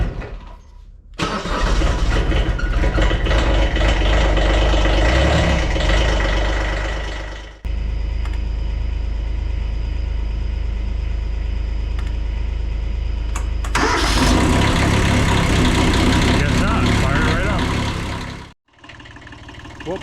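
A small tractor engine runs a little manure spreader, a loud steady mechanical drone close by with a brief drop partway through, then a harsher burst before cutting out near the end.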